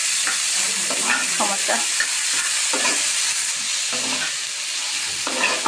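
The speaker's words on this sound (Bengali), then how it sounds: "যার জন্য দেখে টুকিটাকি শাক ভাজলাম" Greens frying in a pan and being stirred, a steady loud sizzle with repeated scraping strokes of a spatula throughout, close up; a voice speaks briefly.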